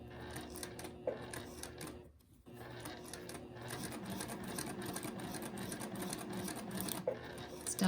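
Sewing machine stitching a Drunkard's Path quilt block, a continuous close mechanical whir with a rapid needle rhythm, briefly pausing about two seconds in before resuming steadily.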